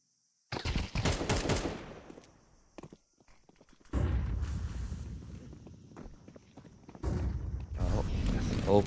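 Automatic gunfire in a competitive Counter-Strike match (CCT Season 3 EU closed qualifier): a dense burst of rapid shots at the start, a near-silent pause, then renewed loud firing and clatter toward the end.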